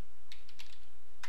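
A few computer keyboard keystrokes are heard while typing in a terminal. The clicks are faint and sparse over a steady hum of background noise.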